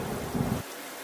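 Cartoon rain and thunder in a jungle scene: a steady wash of rainfall with a low rumbling swell of thunder that cuts off abruptly partway through, leaving quieter rain.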